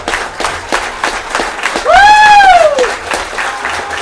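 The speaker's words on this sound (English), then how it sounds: "Crowd comes to an ovation here." A crowd applauds and cheers at a summer collegiate baseball game between the Suffolk Voyagers and Edenton Steamers, with steady clapping that swells midway and a rising, falling whistle cutting through.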